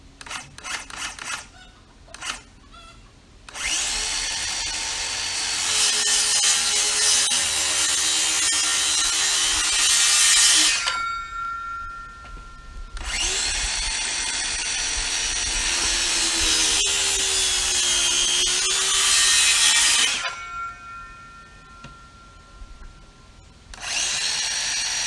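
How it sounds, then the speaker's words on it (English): A chainsaw cutting wood boards laid across buckets, running at a steady high whine through two long cuts, dropping back to idle between passes, loud and close with no talking. "let me fire up the chainsaw"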